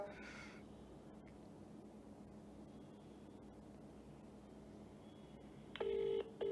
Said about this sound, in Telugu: జడ్సన్ గారికి ఒకసారి కాల్ చేద్దాం.